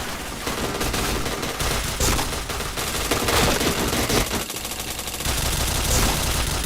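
Rapid video game gunfire in a first-person shooter, with dense overlapping bursts and automatic fire that keep up steadily for several seconds, loud and close.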